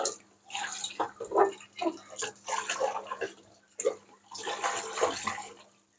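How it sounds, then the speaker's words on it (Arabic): A cooking pot is washed under running water, with splashing, sloshing and clattering in an uneven rhythm. The sound is close and alone, with no speech. "وانا بغسل الحله اهو كده، عشان احط ميه بقى"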